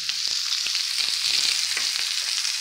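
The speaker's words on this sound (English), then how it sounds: "Steak has just been turned over." T-bone steak frying in a pan just after being turned over, giving a steady, close hiss of sizzling fat with a few small pops and no talking.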